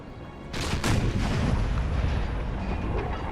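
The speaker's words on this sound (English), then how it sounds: "Okay, French artillery, a 4-pounder." A French 4-pounder artillery piece fires in the Napoleon Total War video game, a sharp booming cannon shot followed by a second blast and a rumbling tail fading into battlefield ambience, with no talk.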